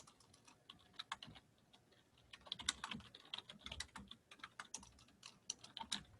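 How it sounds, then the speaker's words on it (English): Rapid, uneven clicking of a computer keyboard being typed on nearby, bursts of keystrokes with short pauses, alone without talk. "I'm just typing something out"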